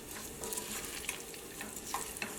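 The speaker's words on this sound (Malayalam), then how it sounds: "നമ്മുടെ ഇഞ്ചി മുരിഞ്ഞ് തുടങ്ങിയിട്ടുണ്ട്" Chopped ginger frying in oil for puli inji, a continuous bright sizzle with bubbling crackle and occasional stirring scrapes, close and steady throughout, no voices.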